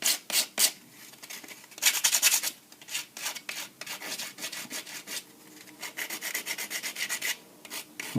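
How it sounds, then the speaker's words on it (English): Plastic is sanded by hand with sandpaper in quick, uneven bursts of scratchy rubbing strokes. The rasping is close and fairly quiet, with short pauses between strokes and no voices. "Let me go ahead and do a couple finishing strikes with a bit of sandpaper."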